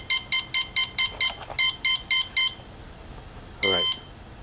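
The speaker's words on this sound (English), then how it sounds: "those four short beeps followed by a long beep means everything is ready" Quadcopter motor electronic speed controller startup beeps, a rapid series of about ten short, evenly spaced electronic tones followed after a pause by one longer beep, close and clear.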